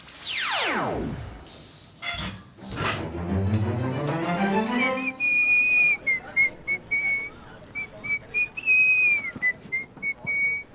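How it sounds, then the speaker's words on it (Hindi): A person whistles a tune in a series of short, bright notes, some held and wavering, after a burst of clattering and rising swooshing effects. "बड़ी सीटियां बज रही हैं आज"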